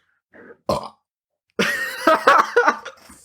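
A loud, drawn-out wet burp rumbles up close after a couple of short throaty bursts, trailing off with a gravelly croak.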